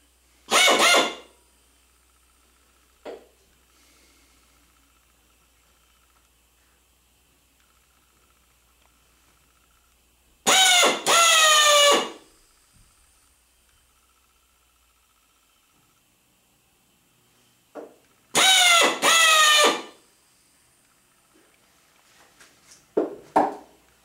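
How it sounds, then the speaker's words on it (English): A pneumatic air drill running on 30 psi fires in three short, loud bursts of hissing air with a rising and falling whine. Near-silence separates the bursts. "Although I'm only running 30 psi through the drill"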